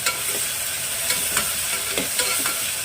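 Ginger garlic paste sizzles in hot oil in a pan while bottle gourd curry is being cooked, with steady frying hiss and repeated scraping strokes of a spoon as it is stirred, close up and without talk.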